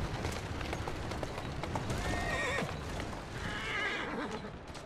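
A horse in Assassin's Creed whinnies twice over a busy rumble of galloping hooves, close and loud throughout.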